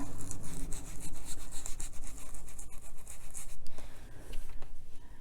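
Ink rubbed by hand onto a card with a small applicator, a steady dry scrubbing and brushing that runs continuously at close range, with no talking.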